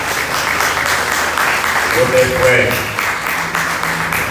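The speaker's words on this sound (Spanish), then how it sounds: "Dele ese fuerte aplauso al Señor." Congregation applauding during a Spanish-language church service, a fairly loud wash of clapping from a crowd, mixed with a voice speaking over it.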